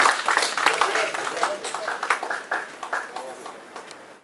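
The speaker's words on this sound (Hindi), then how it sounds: "तालियों की गड़गड़ाहट के साथ उनका स्वागत करें बाबा कानपुरी।" An audience at a Hindi poetry recital (kavi sammelan) claps to welcome the poet Baba Kanpuri, a burst of scattered, fairly close hand claps that gradually thin out and fade.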